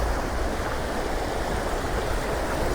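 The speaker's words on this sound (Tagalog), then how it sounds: "Malakas yung agos eh." A strong river current rushes steadily past a riverbank, a dense, continuous roar of flowing water close by with no voices over it.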